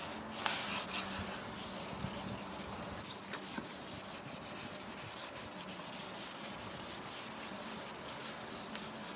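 Sandpaper rubbed by hand across a plastic car headlight lens during restoration, a steady close scratchy rasping with regular back-and-forth strokes, continuous and alone.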